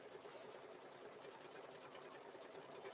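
An embroidery machine stitches a zipper bag in the hoop, a soft steady whirring hum with fast even needle chatter, faint and continuous without talk.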